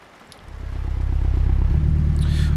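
A Honda Civic Type R engine in the video game Euro Truck Simulator 2 starts up and settles into a deep, throbbing growl that swells and holds steady at close range.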